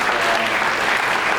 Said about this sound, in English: big round of applause to the panel